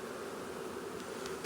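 Caucasian honey bees hum in a thick, unbroken buzz right at an opened hive in a bee yard, brief and close, with no talking.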